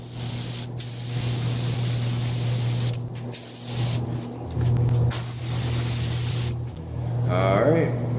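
A spray gun applying base coat paint to a car hood: a close, continuous hissing spray that breaks off briefly a few times, over a steady low mechanical hum.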